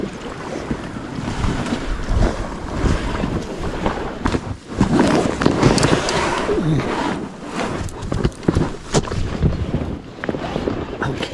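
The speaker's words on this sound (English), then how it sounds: "I'm gonna go ahead and try to row my way back upstream, or up lake, upwind" A rowboat moves upwind across a breezy mountain lake, with water sloshing and lapping against the hull and gusty wind rumbling over the microphone throughout, loud and close without any voices.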